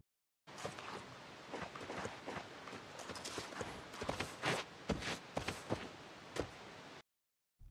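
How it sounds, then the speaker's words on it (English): Heavy moose footsteps in The Long Dark, a steady run of loud, crunching thuds at a walking rhythm, close by and without talk. "They're also quite loud and have loud footsteps as well."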